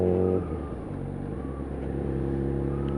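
A litre-class motorcycle pulls from low speed in fifth gear at about half throttle, its engine giving a steady, deep, close humming drone that rises slightly.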